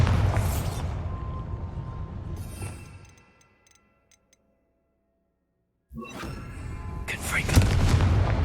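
A Bombarda spell explosion in Hogwarts Legacy bursts with a deep booming roar that rumbles away into silence, then a second loud blast of rubble and noise follows after a short pause.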